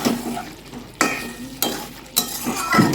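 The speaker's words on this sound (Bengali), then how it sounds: "গরম মশলার গুঁড়া এখন নেড়ে চেড়ে মিশিয়ে নেব" Chicken cooking in a pot as garam masala powder is stirred in, soft frying noise with three distinct scraping knocks of the spoon against the pan.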